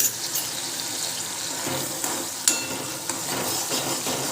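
A spoon scrapes and stirs salt and spices through a thick curry gravy for sev usal in a pan, with faint bubbling and occasional clinks, steady and close.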